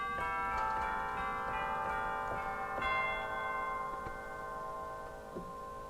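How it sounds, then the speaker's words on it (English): Cathedral chimes on a Temple Theatre organ ring out in sustained metallic tones, several soft strikes blending into a long shimmering decay in a large room. "There are also some tuned percussions, like for instance, cathedral chimes."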